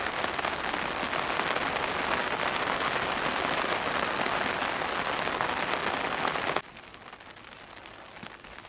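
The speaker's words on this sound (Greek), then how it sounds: "Άρχισε δυναμώνει η βροχή." Steady heavy rain pours down in Farsala, Greece, for most of the clip, a dense hiss that suddenly drops to a much quieter patter near the end.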